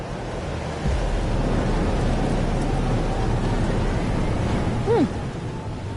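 Rain and a thunderstorm in the game Life is Strange: Double Exposure, a steady, dense wash of rainfall with a low rumble, heard alone without speech.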